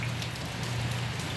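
Heavy summer rain pours down outside a house in South Korea as a dense, steady hiss of drops hitting surfaces, constant and close, with a low hum running underneath.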